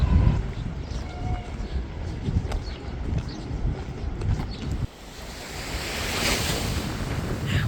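Ocean surf washing onto a beach on Santiago Island, Cabo Verde, a steady roar of breaking waves mixed with gusty wind buffeting the microphone, continuous and fairly loud throughout.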